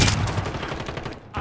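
Gunfire in Call of Duty comes as a quick burst of close, loud shots with a few sharp cracks, then a brief lull and one more shot at the end.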